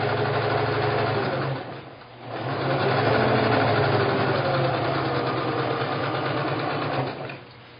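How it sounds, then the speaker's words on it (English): A sewing machine runs in steady bursts, stitching pieced quilt blocks for a spiderweb quilt, with a short pause near the two-second mark before the motor hums on again, close and continuous with no talk. "You just keep going down the line and sew these together"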